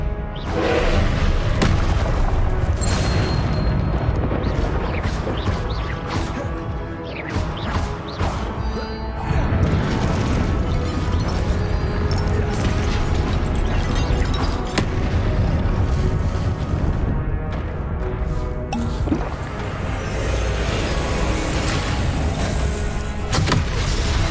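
Confringo explosion spell in a Hogwarts Legacy duel on PS5, loud continuous blasts and crashing booms layered with dense battle effects throughout.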